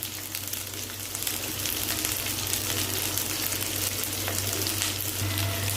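Capsicum and onion sauté in a pan for a capsicum gravy, giving a steady, close sizzle that holds at an even loudness throughout, with no voices.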